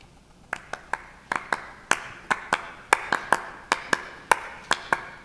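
Sharp hand claps ring out in an irregular, syncopated pattern, about twenty crisp strikes over five seconds, close and alone.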